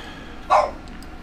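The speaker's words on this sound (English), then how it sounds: "Here comes the barking dogs." One short, sharp bark from a dog at a house rings out close by against quiet background noise.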